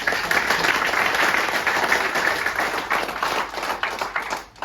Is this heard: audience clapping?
yes